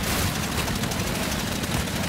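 Sustained video game gunfire fills the whole moment, a loud, continuous rattle of rapid automatic shots with no pause and no talking.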